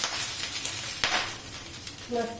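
Water splashed onto an oiled, heated dosa griddle hisses and sizzles steadily at close range, with a sharper burst partway through. A faint voice may be heard near the end.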